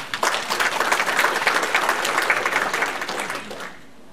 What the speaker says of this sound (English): you can clap at that as well